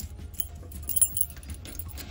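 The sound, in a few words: keys jangling while choosing a key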